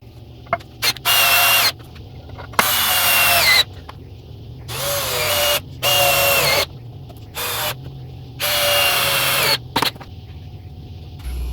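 A power drill drives star-bit screws into 2x4s for a wooden dog house base in a series of loud, close whirring bursts, each lasting one to two seconds. Short pauses fall between bursts, with a few brief trigger blips.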